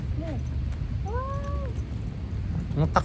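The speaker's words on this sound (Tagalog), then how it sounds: "Japanese cat. Ninja cat yan. Kulay black." Black cat meows outdoors at night in a park in Yokosuka, Japan: a short meow, then a longer drawn-out one, close and clear over a steady low background rumble.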